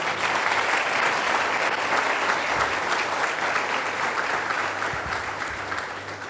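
Worshippers in a church applaud during a sermon. Sustained, dense clapping from a full room stays loud and continuous throughout, then tapers gently toward the close.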